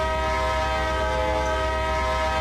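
A coal train horn in the Run 8 train simulator sounds as one steady, loud, chord-like blast held throughout, with a low rumble of the locomotive beneath it.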